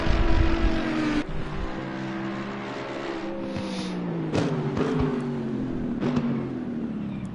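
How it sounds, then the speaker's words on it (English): McLaren race car in a racing video game at the Nürburgring, its engine droning steadily with harmonic whine, rising and falling through gear changes as it takes the last right-hander of Coca-Cola curve toward the start-finish line. "Alexei in the number 17 McLaren making his way through the last right-hander of Coca-Cola curve and up to that start-finish line"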